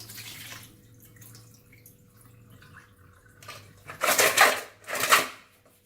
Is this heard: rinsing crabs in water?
yes